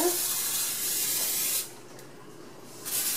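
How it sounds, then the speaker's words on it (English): An olive oil cooking spray hisses onto a pan in a long burst, pauses briefly, then starts spraying again, close by with no talking. "you need to use your olive oil spray"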